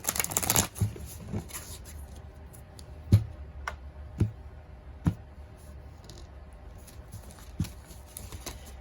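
Tarot cards riffled and shuffled close by, a brisk flurry at the start followed by several sharp, spaced taps as the deck is squared.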